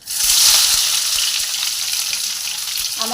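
Onion hitting hot oil already seasoned with bay leaf, whole garam masala and two dried red chillies, for chicken posto; a loud, steady close sizzle runs unbroken for about three seconds with no voices.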